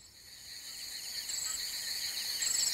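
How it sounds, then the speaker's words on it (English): Crickets chirping on an August night, a steady high shimmering trill that rises slightly in level, faint and continuous with no voices. "Sometimes there's a noise that sounds like crickets."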